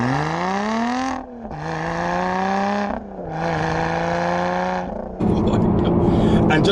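A Lotus Evora 400 with a valved exhaust revs repeatedly: three rising engine pulls separated by brief lifts, loud and close, ending in a rougher, crackling burble from the exhaust.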